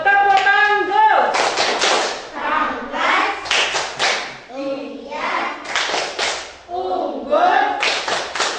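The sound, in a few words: class of children clapping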